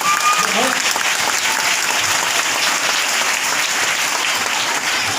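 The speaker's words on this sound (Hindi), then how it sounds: "आप बहुत जोरदार तालियां बजा कर इसका स्वागत करें।" An audience at a children's programme applauds loudly and continuously in a dense, steady roar of clapping that fills the whole stretch, with a voice faintly audible at the start.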